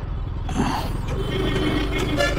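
Steady low rumble of road traffic with engine drone throughout, cars passing nearby in a continuous wash of noise.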